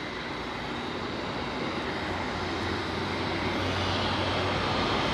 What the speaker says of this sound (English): the A330 of Discover, which has just been de-iced, is actually taxiing away